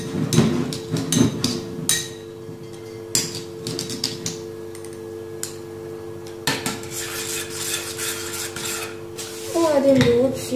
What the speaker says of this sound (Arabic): الحليب من بعد ما سخنتو غادي ندوب هاد الكافي